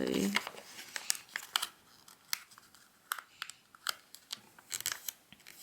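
Paper being folded by hand for an origami turkey, with soft crinkles and crisp creasing taps in irregular bursts, close and quiet, alongside a person talking.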